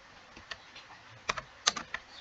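Keystrokes on a computer keyboard, typing a ping command during a computer networking lab, come as a few scattered, close clicks with short pauses between them and no talking.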